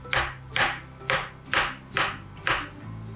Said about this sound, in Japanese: 椎茸は石突きを落としてスライスします。